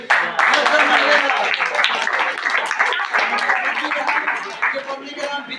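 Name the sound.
audience clapping at a quiz contest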